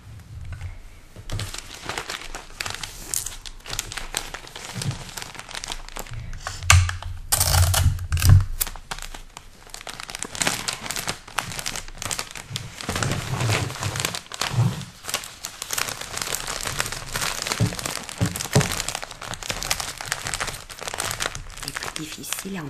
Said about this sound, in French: je dois absolument emballer mes cadeaux aujourd'hui